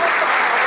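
Steady applause from an audience at a book presentation, a dense wash of clapping that holds evenly at close range without pause.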